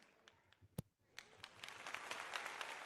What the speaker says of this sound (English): We get a goddamn round of applause.